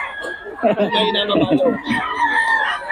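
A rooster crows nearby, loud and strained, with clucking mixed in and someone speaking at the same moment.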